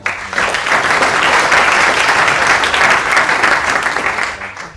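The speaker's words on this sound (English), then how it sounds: "Give a big applause to Steve Keen and wish you all a lively debate going forward." Loud, full applause from the audience at a public finance debate, rising quickly and holding as a thick, even roar of many hands before tapering off at the end.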